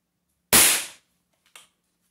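A single sharp, loud crack of a Winchester 1977XS pump air pistol shot, indoors in a kitchen, fading quickly and followed by a faint, brief click a second later.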